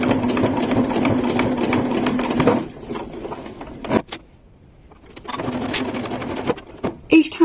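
A computerised sewing machine runs steadily through binding on a Tula case made of many fabric layers, pausing and restarting, with a small automatic bobbin-check whir in between and brief handling clicks.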